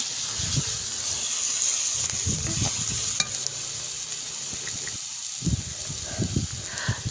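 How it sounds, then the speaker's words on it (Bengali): Salt and turmeric with spices frying in oil for a bean-seed dal, a steady hiss of sizzling with repeated scraping stirs of a spoon in the pan, close and fairly loud, no talking. "লবণ হলুদ দিয়ে ভালো করে কষিয়ে নিতে হবে"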